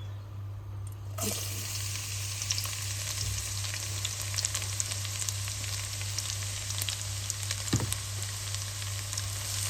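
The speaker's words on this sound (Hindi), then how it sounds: "इसको हम सौते कर लेते हैं इसमें।" Garlic hits hot oil with a sudden loud sizzle and then fries steadily under occasional stirring clicks, sautéed as the base for black pepper chicken.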